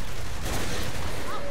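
A herring-firing gun shooting in the video game Saints Row: The Third, heard as a dense, steady roar of gunfire and blasts that runs unbroken through the whole moment.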